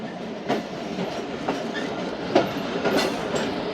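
The Thal Express passenger train rolls along with a steady rumble, and wheels click over rail joints at regular intervals, heard from inside the carriage.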